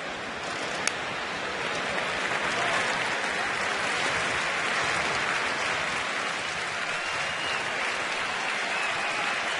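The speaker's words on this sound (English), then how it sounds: "you'll start hearing a groundswell of applause and cheering" Crowd at a Giants–Nationals baseball game applauding and cheering with two outs and two strikes, a dense, steady roar of clapping and voices filling the stadium throughout, loud and continuous with no commentary over it.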